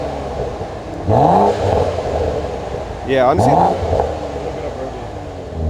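A BMW G80 M3 with its exhaust valve open revs twice, each blip rising sharply to a loud snarl and falling back to a rumbling idle, with a brief remark spoken between.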